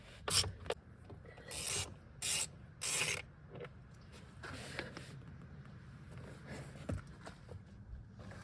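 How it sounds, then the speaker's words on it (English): Bolts on a 2019 Ford F150 being removed with a socket wrench and extension, heard as close bursts of rapid ratcheting clicks in short spells with quiet handling noise between them. "You're gonna need an extension and remove these two bolts here."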